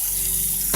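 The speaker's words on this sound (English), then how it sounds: "So I'm running hot water right now" Hot water pours steadily from a tap into a pot in a kitchen, a continuous loud hissing gush with no pauses and no talk over it.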